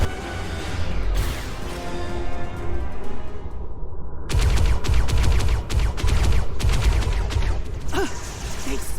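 Sci-fi weapons fire in Star Trek Online bursts out loud after a short quieter stretch, a rapid string of sharp shots crackling over a busy combat soundtrack.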